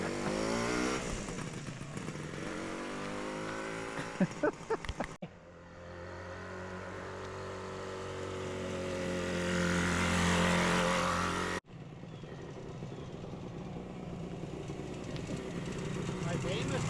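A vintage motorcycle engine, back running after 51 years off the road, chugs and revs steadily through most of the stretch, with a cut partway through and people talking over it.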